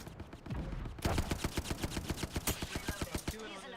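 Rapid bursts of automatic gunfire from an Apex Legends match: a dense, steady volley of sharp shots, close and loud, running for about three seconds after a brief muffled opening.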